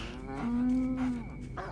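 A cow in the video game Cow Tipping Simulator lets out a single clear, sustained moo, loud and close, lasting about a second.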